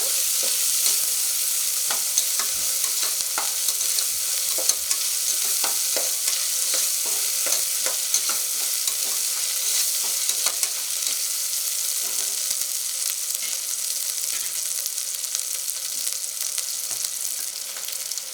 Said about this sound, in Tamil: ஸோ இது நல்லா வதக்கி வச்சுக்கோங்க.